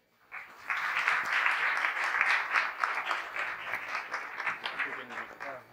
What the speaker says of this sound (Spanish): Alex, un aplauso para ellos.